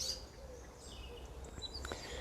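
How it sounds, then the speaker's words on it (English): Faint, scattered bird chirps and short calls come from outdoors among trees, with a few brief high tweets over a soft, steady background hush. "Birds and squirrels all round about me."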